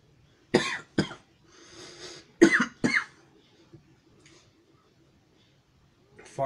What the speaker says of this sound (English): There's gonna be coughing